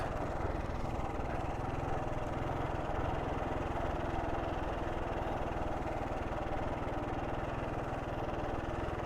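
An off-road vehicle rides through sand and rocks, its engine a steady, close, unbroken drone mixed with rumbling wind and terrain noise for the whole stretch.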